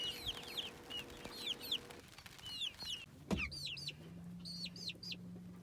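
Chickens and a rooster cluck and chirp in a farm coop, with repeated bird calls scattered throughout, a brief thump near the middle, and a steady low hum beneath.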